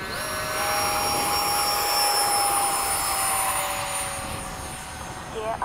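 FMS 70mm F/A-18 RC electric ducted-fan jet on its takeoff run, giving a loud, steady high-pitched whine that holds and then eases slightly as it climbs away, with faint outdoor background.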